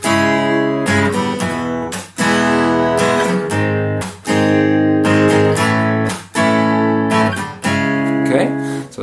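Acoustic guitar strums a pattern of down and up strokes with percussive slaps, where one slap is replaced by a plain down strum. Loud, close and steady, with regular accented breaks about every two seconds.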